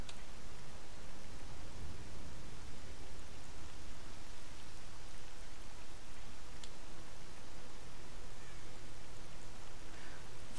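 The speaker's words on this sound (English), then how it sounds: "Of course, the rain isn't very optimal" Rain in a nighttime industrial area of Pripyat in a video game, a steady broadband hiss of falling rain with soft pattering, constant and moderately loud throughout with no speech.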